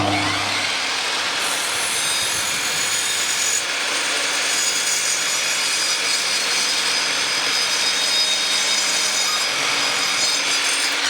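Hand saw cutting straight through a wooden board during an allotment asparagus bed build, steady continuous rasping strokes filling the whole stretch, close and fairly loud with no speech.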